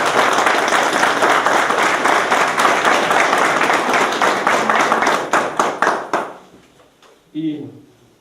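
A crowd at a ceremony applauds with dense, sustained clapping that thins into scattered claps and fades out, followed by a brief voice.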